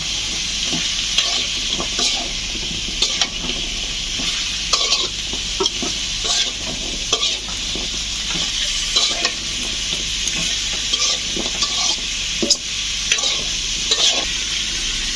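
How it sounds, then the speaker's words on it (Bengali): Food fries in a pan while a spatula stirs it, with dense continuous sizzling and repeated scraping strokes at close range and no voices. "লবণ দেওয়ার পর নাড়াচড়া দিবে"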